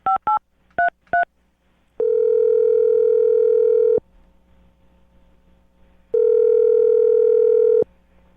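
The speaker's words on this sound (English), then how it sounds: "I'm going to dial this phone number right now and get him on the phone." Landline telephone being dialed: four quick DTMF keypad beeps, then two long steady dial-tone-like tones separated by a quiet gap, clear and close with no voices.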